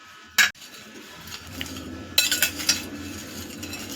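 Light metal spoon clinks and scrapes against a dish while Maggi noodle bhel with carrot, a little cabbage and coriander is mixed together, two sharp chinks followed by a cluster of softer clatters, close and fairly quiet.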